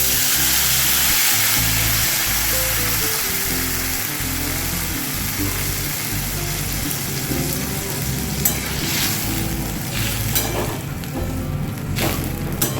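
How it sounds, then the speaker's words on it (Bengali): Water poured into a hot pan of oil with rohu (rui) fish pieces and a little turmeric sets off a loud, steady sizzle and bubbling that lasts throughout, with occasional clinks toward the end. "জল ঢেলে দিচ্ছি।"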